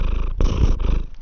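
A domestic orange cat purrs close to the microphone in loud, rumbling pulses with a brief rustle partway through.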